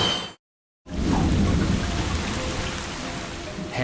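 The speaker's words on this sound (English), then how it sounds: "Heavy rain soaks a small airport in Dubrovnik, Croatia." Heavy rain pours down at a small airport in Dubrovnik, Croatia, a dense continuous roar of rainfall that starts after a brief moment of silence and stays loud and steady.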